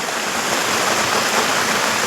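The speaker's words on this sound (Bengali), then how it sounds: "আওয়াজ দেখো কত জোর বৃষ্টি হচ্ছে" Heavy rain pours down in a dense, steady roar of broadband noise, constant and loud with no pauses and no voices.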